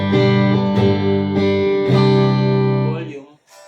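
Electric guitar strummed through the mid pickup, sustained chords struck in a steady rhythm, loud and close, ringing out alone before fading at the end.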